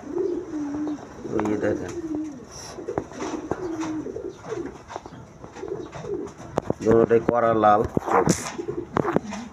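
Kashmiri racer pigeons coo in repeated low throaty phrases close by, with someone talking over them throughout and a few sharper chirps near the end.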